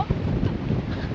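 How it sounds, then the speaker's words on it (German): Strong wind buffets the microphone in gusty, roaring bursts, out on the open Mexican highlands among cacti and trees. "wir hoffen, dass der Wind noch ein bisschen nachlässt"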